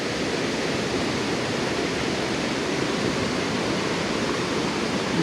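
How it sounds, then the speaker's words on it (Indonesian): Strong wind mixed with the steady roar of a waterfall at a forgotten curug, forming a loud, constant broadband rush with no breaks. "Ini anginnya kenceng teman-teman. Anginnya kenceng banget."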